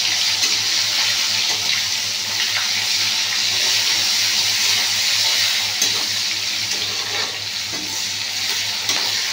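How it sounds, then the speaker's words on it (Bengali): Onions lightly frying in a pan for a shingi fish curry, a steady, close sizzle running throughout with faint stirring clinks and a low background hum. "পেঁয়াজটা হালকা একটু ভেজে নেব।"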